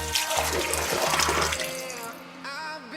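Tap water runs loudly into a sink or bowl while dried coriander is rinsed by hand, a steady splashing stream that eases and becomes slightly quieter near the end.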